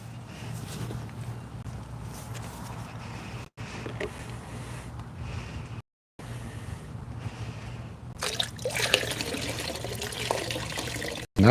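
Running water from a home setup with pumps, a steady washing flow with a low hum underneath and a brighter splashing surge near the end, with no talking.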